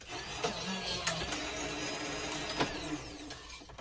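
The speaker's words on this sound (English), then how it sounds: "I'm just going to run it through the die cut machine" A Big Shot Express die cut machine runs a sheet of paper through for a Christmas gift card holder, a low motorized whir with a few brief clicks and creaks, close and fairly quiet without speech.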